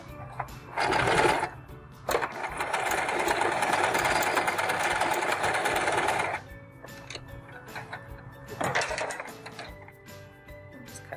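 A sewing machine stitches a plastic bag holder in loud, buzzing runs: a short burst, then a long steady stretch of about four seconds, followed by another brief burst and quieter handling.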